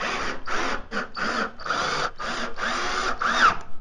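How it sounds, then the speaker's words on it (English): A power drill runs in a series of short, close bursts, about eight quick whirring pulses separated by brief pauses, as 3/4 inch wood screws are driven into a coffee table with pipe legs. "I'm just gonna take it, screw them in."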